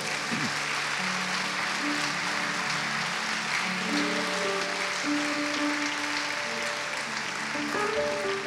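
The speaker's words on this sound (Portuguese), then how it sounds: "Vamos dar um lindo aplauso ao Senhor." A church congregation applauds steadily and fairly loudly throughout, a dense wash of clapping with sustained tones from a keyboard or organ playing beneath it.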